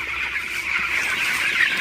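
Broiler chickens in a poultry shed, a dense continuous chorus of peeping and chirping from many birds, steady and fairly loud.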